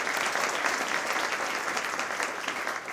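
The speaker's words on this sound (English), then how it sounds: "So a big round of applause." A Chamber of Commerce breakfast audience gives a big round of applause. The clapping is close, loud and continuous throughout, with no voices on top.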